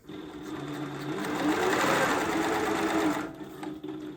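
A SEWPRO 8360B high post bed sewing machine with a simple motor stitches steadily, its loud close whirring hum rising and holding for a few seconds before easing off, with no voices.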